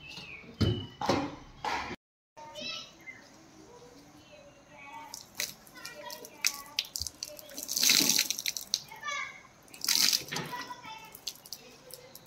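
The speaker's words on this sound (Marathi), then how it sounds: "आता आम्ही आमच्या हँडवॉशने हात धुणार आहोत।" Hands being washed with handwash under a running tap: splashing water, soft squishy rubbing and drips, with louder bursts of water near the end. Faint background sounds accompany it, and a brief silent gap comes early on.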